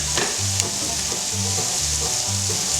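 Onions sizzle steadily and loudly in a frying pan for a spicy ginger pork casserole, a constant close hiss and crackle with soft rhythmic stirring thumps underneath.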